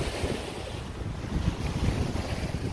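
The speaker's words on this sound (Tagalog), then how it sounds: "masyado malakas ang hangin" Strong wind buffets the microphone in low, rumbling gusts over the wash of the Mississippi River, with no voices.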